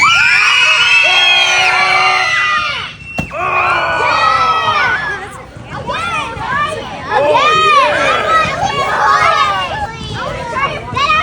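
A crowd of children at a cooking class screams and cheers loudly as a pineapple is smashed, with high-pitched shrieks and whoops rising and falling in continuous excited waves.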